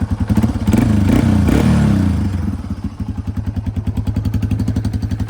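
A Yamaha TW200 motorcycle fitted with a Nibbi carburetor runs nearby. After a brief rev, it settles into a loud, even, rapidly thumping idle with no voices.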